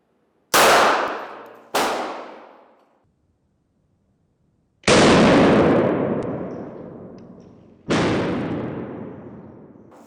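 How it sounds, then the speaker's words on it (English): A 40mm less-lethal round loaded with 50 caliber stinger balls fired at a target, heard as four loud booming reports with ringing, decaying tails, two close together and then two more spaced apart. "So up next we're firing a less than lethal round."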